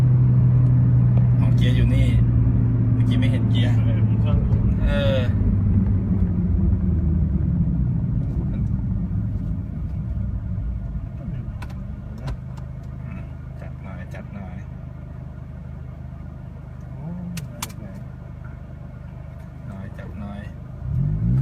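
Honda City with automatic transmission and an aftermarket exhaust launching from a stop, engine droning loudly, then easing into a lower rumble as it rolls on, with people talking inside the car.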